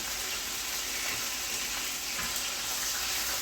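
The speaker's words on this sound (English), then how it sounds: "You're gonna let that simmer for a couple of minutes." Butter sauce simmering in a pan while garlic-crusted lamb chops are cooked, a steady, even sizzling hiss with no break and no voices.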